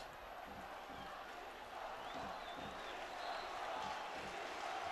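A large stadium crowd at a Champions League qualifier football match gives a steady, distant wash of applause and murmuring for a substitution, holding level for the whole stretch.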